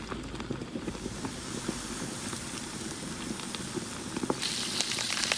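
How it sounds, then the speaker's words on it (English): Food sizzles and crackles in hot oil over low-medium heat, a steady close-up spattering with scattered sharp pops throughout. "Fry until golden brown,"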